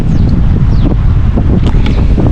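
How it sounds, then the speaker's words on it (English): Steady wind buffeting the microphone outdoors in Cape Town, a continuous low rumble throughout, with faint rustling and a few distant bird chirps. "it's quite windy today."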